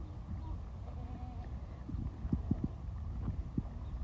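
Goats with their young kids mill around in farm kidding pens, giving a few soft bleats and sharp knocks against a low, steady background; the whole scene stays faint and distant.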